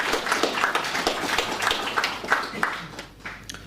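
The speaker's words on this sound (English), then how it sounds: "Can I please get a big round of applause?" A small group applauds steadily after a fundraising announcement at a community class gathering, claps dense and mid-distance, with a faint voice or two murmuring underneath before it thins out toward the end.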